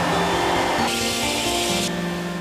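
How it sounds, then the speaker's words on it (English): A HEPA vacuum runs during cleanup after lead paint work, giving a loud steady whooshing roar with a shift in pitch partway through, close by and without voices. "Finally, clean thoroughly with the HEPA vacuum one more time."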